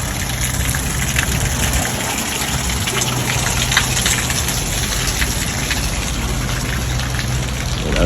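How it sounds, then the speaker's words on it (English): Heavy rain heard from inside a building under construction, a steady, dense, loud rush of water that continues unbroken with no voices. "A lot of rain, so I'm working inside today."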